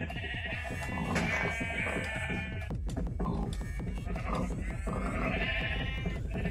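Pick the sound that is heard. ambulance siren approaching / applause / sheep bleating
sheep bleating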